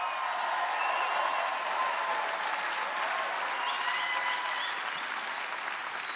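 A large audience at a comedy gala applauds loudly and steadily, dense clapping that holds for several seconds with no break, and no voice stands out over it.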